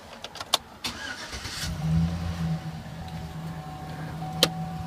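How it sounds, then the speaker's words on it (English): A 2007-08 Chevy Silverado 4.8 pickup engine with a cold air intake cranks and catches after a few clicks and thumps, then settles into a low steady hum, fairly close. "we're gonna start the truck up, see how it sounds"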